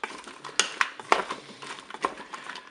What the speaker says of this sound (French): je vais mélanger, comme je vous l'ai dit, mes courgettes